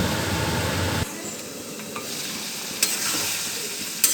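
Bottle gourd (lau) being stir-fried in a pan, a steady close sizzle that drops to a softer hiss partway through, with a few clicks of the spatula against the pan.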